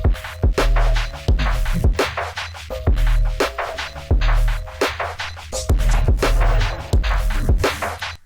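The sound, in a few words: synthesized shaker sound made in Phase Plant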